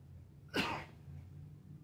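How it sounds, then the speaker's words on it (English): A single sharp human sneeze bursts out close to the mic over a steady low hum in an indoor room, then fades into quiet background. "I feel like I'm about to sneeze"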